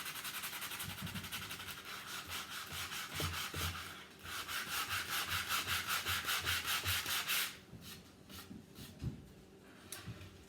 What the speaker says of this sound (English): Now I have used an actual sander while doing this.